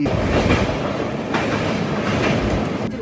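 The Vikramasimhapuri Express rushes past close by in a loud, continuous rumble of wheels and carriages, with rhythmic clatter over the rails and no talking.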